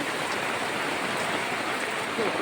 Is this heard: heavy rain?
yes